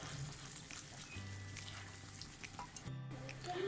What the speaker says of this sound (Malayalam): ഇനി നമ്മൾ ഫ്രൈ ചെയ്ത് വെച്ചിരിക്കുന്ന കൊഞ്ച് ഇതിലോട്ട് ആഡ് ചെയ്ത് കൊടുക്കുക. മസാലയായിട്ട് നന്നായിട്ടൊന്ന് മിക്സ് ചെയ്യുക.